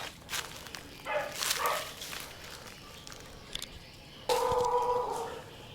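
Stray dogs on a mountain path in Phatthalung, Thailand give a few scattered barks and yips at moderate distance, with a louder burst near the end over outdoor background noise.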